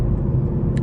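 A 2016 Ford Mustang GT with a 5.0 V8 drives along, its engine giving a steady, close low rumble with road noise throughout and no break.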